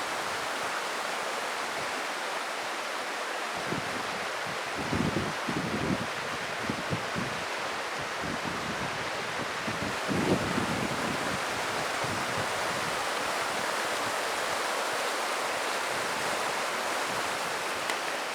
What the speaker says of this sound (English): Let me show you the river.